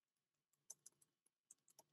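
Someone types a command on a computer keyboard, producing a handful of faint, sparse key clicks in an otherwise quiet room, with a slightly louder press at the end.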